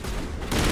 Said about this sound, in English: I'm being shot from the side.